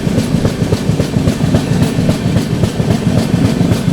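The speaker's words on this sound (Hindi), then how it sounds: "सामने से जो ट्रेन आ रही है आप लोगों की बाबा बैद्यनाथ धाम देवघर हम सफ़र सुपरफास्ट एक्सप्रेस आ रही है" A Baba Baidyanath Dham Deoghar Humsafar Superfast Express rumbles past close by, its wheels beating out a steady, rapid clickety-clack over rail joints at constant loudness for the whole stretch.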